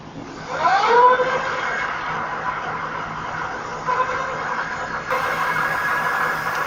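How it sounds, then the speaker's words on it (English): A Lectric XP electric bike motor, just fitted with a replacement control module, runs on a test stand with a steady whine that rises in pitch as it spins up and holds for several seconds, with a faint brief swell partway through. "All right, let's test the motor."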